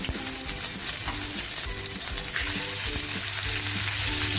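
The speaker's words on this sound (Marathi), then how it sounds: "पॅनमध्ये बघा तेल टाकले तेल छान तापले आणि हे जे घेतले मी याच्यावरती एकत्र फ्राय करते" Surmai (kingfish) fries in hot oil in a pan, giving a dense, continuous close sizzle and crackle that builds slightly louder toward the end, with no voices.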